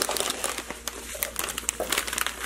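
Paper packaging crinkling as a gift is unwrapped, with a run of loud, close crackles and rustles that keep going without a break.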